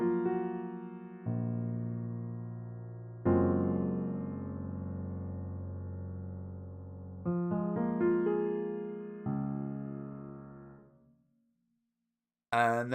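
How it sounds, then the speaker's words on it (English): Dry, unreverberated piano playing sustained chords that change every couple of seconds, fairly loud and close, with no echo tail, ending in brief silence. "So I've got a piano part here, which sounds like this dry."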